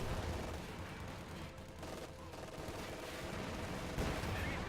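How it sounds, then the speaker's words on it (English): Gunfire in the Company of Heroes 2 game on the Hurtgen Forest map, with dense, continuous volleys and bursts that fill the whole stretch at a steady, loud level. "I've got that much gunfire going on over here that I can't even hear you right now."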